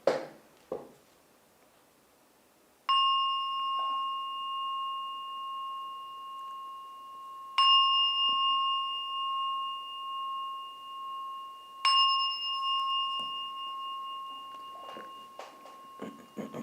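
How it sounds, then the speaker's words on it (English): A meditation bell is struck three times, each ring a clear sustained tone that lingers and slowly fades, with quiet room sounds between strikes. "I'll ring the bell 3 times."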